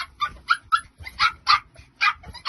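A dog barks in a quick series of sharp, bright yips and whimpers, about nine close bursts in steady rhythm, loud and near with no other sounds.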